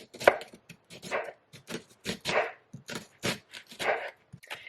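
Rapid, uneven knife chops dicing an onion on a cutting board, crisp close thuds in quick bursts with brief pauses between them.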